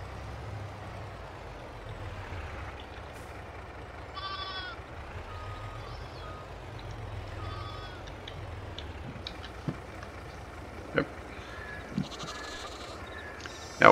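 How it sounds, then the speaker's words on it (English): Sheep bleat repeatedly at a farm in the Farming Simulator 22 video game, over a steady engine hum, with a few sharp clicks toward the end. "it was silly me that I didn't give the sheep any water"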